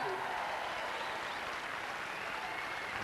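Tennis crowd at a match between Rusedski and Siemerink in 1998, applauding steadily in a broad, even wash of clapping that holds at constant loudness throughout, with no talk over it.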